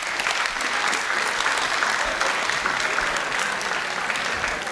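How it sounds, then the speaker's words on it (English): An audience at a Drive Responsibly 2021 high school event in Lawrence bursts into steady, dense clapping that carries on evenly throughout, with no voices rising above it. "Give these guys a big round of applause, please."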